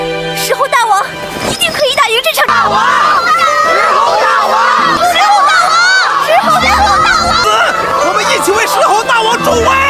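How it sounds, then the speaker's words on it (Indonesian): A crowd of monkey characters in an animated Chinese donghua shouts and cheers together, loud excited yelling voices layered over one another, swelling into a continuous roar with some earlier individual calls. "teriakan Xiao Liu diikuti oleh Gouji beserta seluruh rakyat kera"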